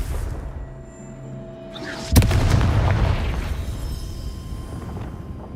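The Confringo fire spell in Hogwarts Legacy goes off as a sudden, sharp blast followed by a deep, rumbling boom and a fading roar of debris, set against a low game ambience.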